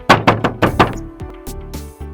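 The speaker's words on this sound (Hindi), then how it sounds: "ये कौन आया दरवाजा खटखटा रहा है?" Five sharp, loud knocks strike a door in quick succession, followed by a few softer, duller thuds spaced further apart.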